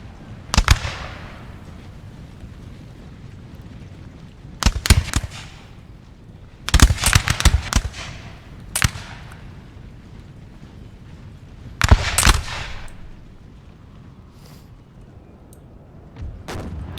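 Musket volleys and artillery fire in the Napoleonic battle game Napoleon: Total War crack out in sharp, crackling bursts, five or six clustered salvos spread over the span, loud against a low background rumble.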